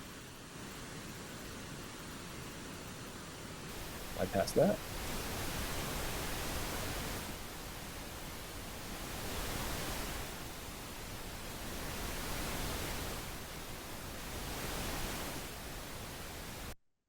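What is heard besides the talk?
pink noise panned left to right in stereo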